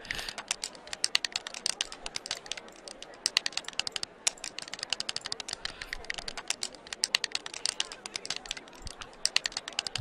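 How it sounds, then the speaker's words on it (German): Dense, continuous clicking and tapping of game controllers and buttons fills a busy Gamescom convention hall, rapid irregular clicks at steady loudness throughout with faint crowd murmur beneath. "Aber wie wir auch die ganze Zeit das Klicken von irgendwelchen Konsolen hören."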